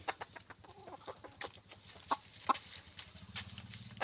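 A young rooster, about six or seven months old with a red-shafted tail and black shanks, clucks and makes short, sputtering, unfinished crows in a quiet farmyard, with several brief calls in quick succession.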